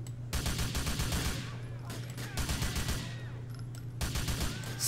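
Rapid bursts of gunfire from a movie scene crackle in dense volleys, loud and close, with brief pauses between strings of shots over a low rumbling background.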